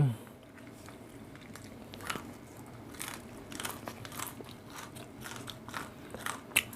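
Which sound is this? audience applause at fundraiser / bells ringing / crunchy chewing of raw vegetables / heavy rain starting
crunchy chewing of raw vegetables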